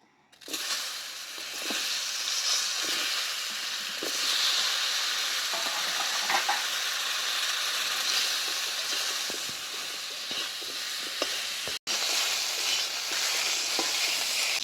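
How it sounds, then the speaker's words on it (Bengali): Cut snake gourd pieces fry in a pan, starting with a sudden loud hiss as they hit the oil, then a constant close sizzle with occasional stirring scrapes and a brief break near the end. "চিচিঙের দমের জন্য কেটে রাখা চিচিঙেগুলো ভেজে নেব।"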